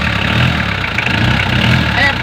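A strained car starter motor, hot and struggling to turn over after six months of use, cranks hard and steadily with a continuous loud, labored whir that does not let up through the whole stretch.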